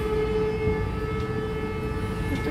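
An outdoor civil defense alarm siren sounds during a test, a steady, continuous drone that fills the whole stretch, heard from a distance with light outdoor background noise.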